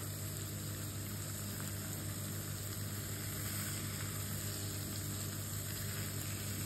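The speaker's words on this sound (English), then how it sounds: "we're going to lay our fish into the pan" Fish laid into a hot pan for a Christmas starter, frying with a steady, even sizzle that stays constant throughout, close and alone without any talk.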